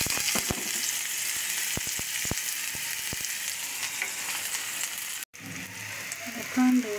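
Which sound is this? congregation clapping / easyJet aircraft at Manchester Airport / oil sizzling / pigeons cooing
oil sizzling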